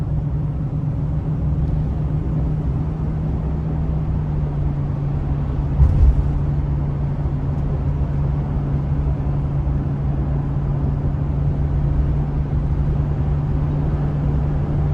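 A 2021 Chevrolet Express 2500 Explorer conversion van drives through winding turns, giving a steady low engine and road rumble with a sustained drone and one brief bump near the middle.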